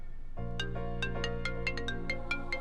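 A mobile phone ringtone plays alone at close range, a melodic sequence of bright electronic notes over a sustained tone.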